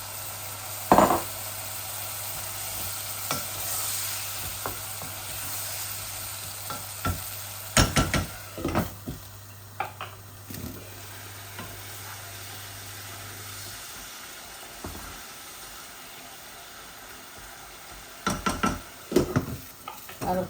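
Shrimp frying in a pan, giving a steady low sizzle throughout, with intermittent scraping and stirring clatters from a utensil that grow more frequent toward the end.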